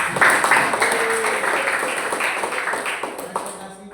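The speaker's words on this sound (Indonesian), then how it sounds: "Tepuk tangan dulu dong." A school class claps after a student presentation, a lively burst of many hands that starts loud and slowly thins, with a few voices mixed in.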